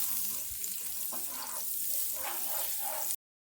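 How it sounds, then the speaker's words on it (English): Butter sizzling and frying on a preheated Blackstone 22-inch E Series electric griddle, a steady broadband crackle with faint spits, close and continuous for about three seconds before cutting off. "I'm just going to start off with some butter on the griddle"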